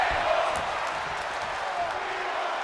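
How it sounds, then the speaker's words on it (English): A large wrestling arena crowd in Phoenix in WWE 2K25 roars in a constant loud wall of cheering and noise, sustained without pause. "You hear the crowd in Phoenix."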